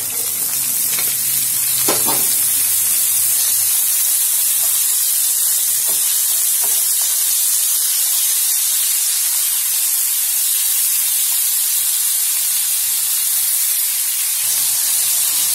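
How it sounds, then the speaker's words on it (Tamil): Jackfruit seeds hit a hot pan for a Tamil poriyal and sizzle steadily, with a few stirring scrapes early on. The frying hiss stays loud and continuous throughout with no voices. "இப்ப நம்ம பலாக்கொட்டை போட்டுக்கலாம்."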